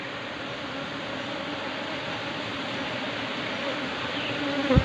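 Apis cerana honey bees swarm in a dense, continuous buzzing hum, loud and close, steady throughout with a brief knock at the very end.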